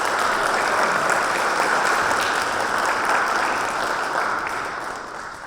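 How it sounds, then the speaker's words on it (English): Outdoor anniversary-ceremony crowd applauding Cub Scout Pack 22 leaders and committee members, a dense, even wash of clapping held for over five seconds before easing slightly. "Please give a round of applause to the Braintree Cub Scout Pact 22 leaders and committee members"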